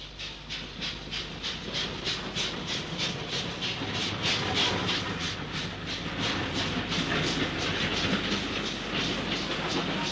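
Steam locomotive hauling a train along the up-fast line on a Midlands main line in the last days of steam, its steady, rhythmic exhaust beats and rail clatter passing close and loud throughout.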